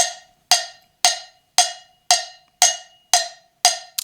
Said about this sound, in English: we're going to attempt to muffle the cowbell a little bit